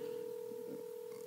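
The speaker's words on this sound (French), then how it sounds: "téléphone maître Georges qui a sonné." A telephone sounding a steady, unbroken electronic tone, fairly faint, with faint murmuring behind it.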